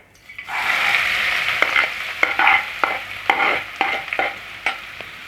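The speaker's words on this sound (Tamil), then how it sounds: "எண்ணெய் சூடாயிடுச்சு இப்போ நம்ம வெங்காயத்தை சேர்த்துப்போம்" Finely chopped onions frying in hot oil for a chicken handi curry, a steady sizzle broken by repeated scraping stirs of a spoon in the pan, close and alone.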